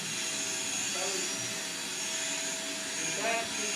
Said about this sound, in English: the vacuum go off.